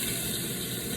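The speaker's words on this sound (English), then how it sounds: "Listen to that sizzle." Chicken pieces sizzle in a hot cast iron pan, a dense, steady crackling hiss that fills the moment without pause.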